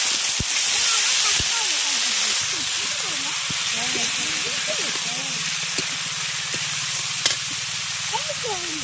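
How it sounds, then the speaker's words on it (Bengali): Cut potato, eggplant and green spice paste go into fried spices in a pan, raising a loud broad hiss of sizzling that fades to a steady fry while a voice talks over it. "মশলা ভেজে নিয়েছি এবার কেটে রাখা আলু বেগুন আর সবুজ মশলাটা দিয়ে দেবো"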